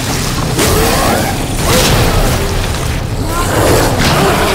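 A grenade blows up in Resident Evil 2 Remake with loud, rumbling booms that swell twice and fill the whole space, heavy low-end blasts dominating over any other sound.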